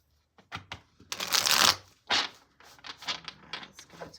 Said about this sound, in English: Shuffle these cards a little.